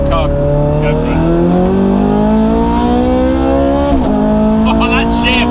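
A Ferrari 430 Scuderia pulls away hard, its engine climbing through a steady rising howl, briefly dipping at a sharp gearshift before revving up again, loud and close with faint background voices.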